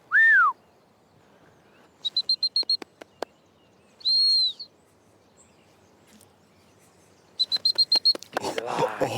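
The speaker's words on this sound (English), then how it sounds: "The recall whistle would be toot, toot, toot, toot, toot" A dog recall whistle: several short blasts in quick bursts, with longer sustained whistle tones between them, sharp and fairly close against a quiet outdoor background.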